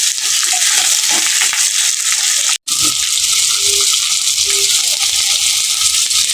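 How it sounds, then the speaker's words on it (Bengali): Chunks of bottle gourd fry with salt and turmeric in hot oil, giving a loud continuous sizzle with a brief break partway through, plus occasional stirring scrapes and rattles close by. "লাউটাকে এখন আমি নুন হলুদ দিয়ে একটু ভেজে নেব"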